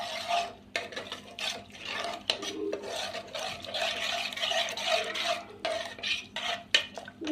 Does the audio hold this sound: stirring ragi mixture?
yes